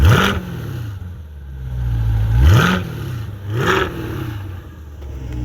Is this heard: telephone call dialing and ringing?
no